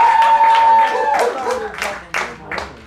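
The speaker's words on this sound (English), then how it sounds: "We all gotta give it up, women, clap" Audience members at a standup comedy show at a pub break into scattered clapping that rises after a brief lull, with a few sharp bursts of applause.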